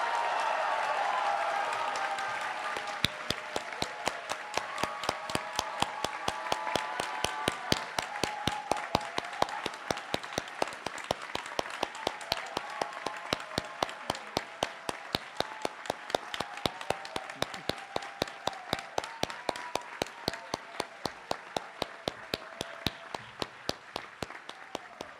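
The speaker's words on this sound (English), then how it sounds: "Let's give a big round of applause." An audience at a 2023 doctoral hooding ceremony applauds new doctoral graduates, a dense wash of clapping that settles into steady, rhythmic clapping, moderately distant and sustained for the whole stretch.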